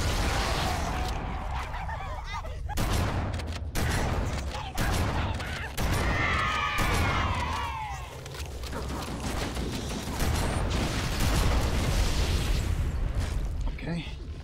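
Grenade blasts and gunfire in the video game Halo CE, with heavy booms and bursts recurring through the clip while a player talks over the action.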